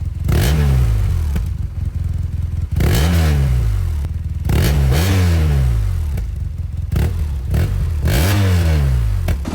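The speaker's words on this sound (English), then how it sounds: "first let's start with listening to this 1170 air-cooled boxer twin because it has a very unique soundtrack to it" BMW HP2 with a 1170 cc air-cooled boxer twin, revved hard in repeated blips: about four loud rising-and-falling surges over a steady, lumpy idle, close and alone with no talk.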